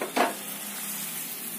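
A tempering (phodni) for a crispy corn-flake maka chiwada sizzles steadily, a close, even frying hiss that opens with a short louder burst and then holds without talk.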